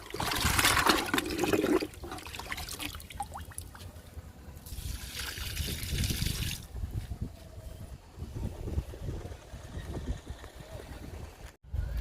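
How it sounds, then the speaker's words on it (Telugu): Liquid fertilizer pours onto a potted curry leaf plant, a soft, close trickle and splash of liquid soaking into soil, with faint background noise. "కరివేపాకు మొక్కకి లిక్విడ్ ఇచ్చేద్దాము"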